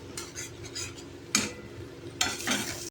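Spice paste of ground onion and ginger with salt and turmeric fried for a duck egg curry, a spoon scraping and knocking a pan in irregular strokes over a low sizzle, close and quiet, no voices.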